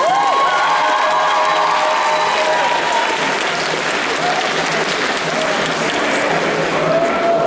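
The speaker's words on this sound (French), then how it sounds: "je vais vous demander donc du coup d'applaudir très fort Kyoza." A large crowd at a cosplay contest at the Necronomicon 2025 convention applauds loudly and continuously, with scattered cheers and whoops mixed into the clapping.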